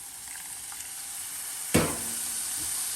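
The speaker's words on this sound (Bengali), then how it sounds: "আমি বাসায় চিকেন ব্রথ রেডি করে রাখি এই চিকেন ব্রথটা একটু দিয়ে দিব" Chicken broth poured into a hot pan of browned enchilada filling gives a sudden loud sizzling burst that flares up, then settles into a steady frying hiss.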